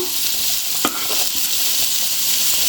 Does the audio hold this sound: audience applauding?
no